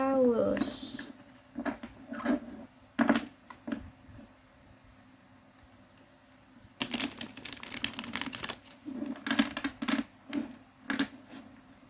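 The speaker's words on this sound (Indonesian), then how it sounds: "Taurus, di sini aku akan coba shuffle kartunya untuk kamu" Tarot cards are shuffled in soft, papery bursts of riffling and tapping, broken by quiet pauses. A dense flurry of card noise comes in the second half.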